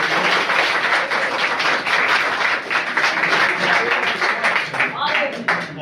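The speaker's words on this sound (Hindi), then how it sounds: "तो इनके लिए भी जोरदार तालियां" Audience applause at a 5-kilometre marathon ceremony held on a Sunday morning, a dense, continuous wash of many hands clapping at steady loudness throughout with murmuring crowd beneath.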